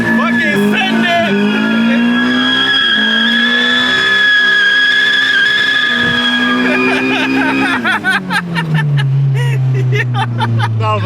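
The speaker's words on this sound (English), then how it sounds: "You want to see a burnout? Second gear burnout?" A car doing a second-gear burnout screams with a loud, sustained tire squeal over a roaring engine, holding one pitch, then shifting lower and rougher near the end.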